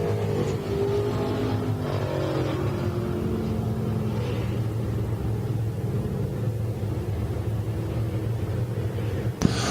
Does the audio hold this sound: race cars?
yes